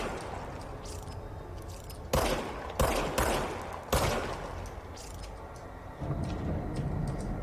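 Weapon fire in the video game Control: a handful of sharp, punchy gunshots in quick succession, with clattering game effects and a steady ambient rumble underneath.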